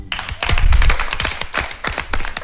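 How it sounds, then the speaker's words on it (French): An audience at a Guinean Miss beauty pageant applauds the winner with dense, lively clapping that swells and then tapers across a few seconds. "Merci d'applaudir."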